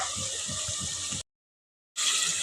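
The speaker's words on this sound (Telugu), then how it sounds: "నేను ఒకసారి అట్లా కలిపేసి తగినన్ని నీళ్ళు పోస్తా" Water gurgles and splashes as it is poured into a pot of mutton curry for about a second, then the sound cuts off abruptly before resuming.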